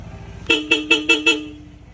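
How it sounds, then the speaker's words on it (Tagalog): A Seger horn fitted to a Honda PCX160 scooter gives five short, loud, evenly spaced honks in quick succession, heard up close. "Sa busina ni Sir, nilagay po natin Seger horn po."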